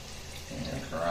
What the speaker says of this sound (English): I'm going to take the juice from the mussels and I'm going to pour and strain it